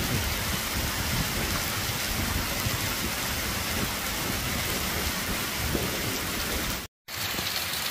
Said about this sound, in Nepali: एकदम भारी वर्षा भइरहेको छ